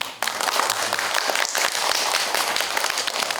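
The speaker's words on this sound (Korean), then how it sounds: "박수." Audience applause at a science lecture on advanced thermal management, a dense, steady wash of many hands clapping that starts abruptly and holds at even strength throughout.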